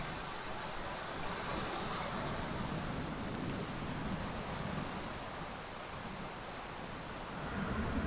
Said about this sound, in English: the tide's coming in